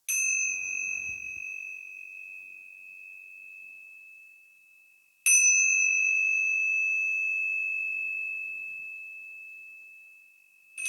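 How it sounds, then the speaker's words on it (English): Small cymbals struck for the space element of an altar, giving two bright, sustained metallic rings about five seconds apart that each decay slowly, with a third strike beginning at the very end, and no talk. "I'm going to use these small cymbals."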